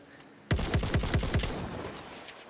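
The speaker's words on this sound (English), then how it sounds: "You just can't get enough of the cannon sound." Cannon fire in the video game Battlefield 1: a rapid burst of about six heavy booming shots in quick succession, then a rumbling echo that fades out.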